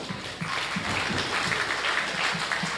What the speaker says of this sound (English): let's start by giving both these exhibitors a big round of applause